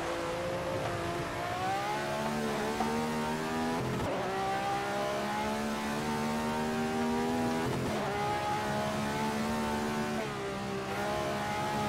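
A 1967 Ferrari 312/67 Formula One car in the GPL racing sim howls loudly and continuously around the Nordschleife, its engine note rising and falling through gear changes, with brief dips near the fourth and eighth seconds.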